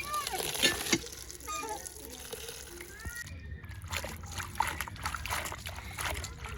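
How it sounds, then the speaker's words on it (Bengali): Water being drawn from a village hand pump with some mossy growth around it, with splashing and sloshing as it gushes out in uneven bursts, close by, while a voice talks over it. "এই চাপ কল থেকে জল উঠাইতেছি।"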